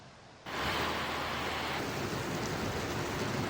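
Rain falling in Pagudpud, Ilocos Norte, heard as a dense, steady wash of noise that starts abruptly after a brief quiet moment and then holds constant, with no voices.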